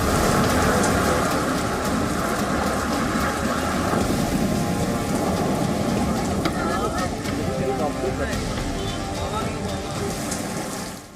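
Heavy monsoon downpour with thunder during widespread torrential rain in north and central India, a dense continuous roar of rain with low rumbling, steady and loud throughout.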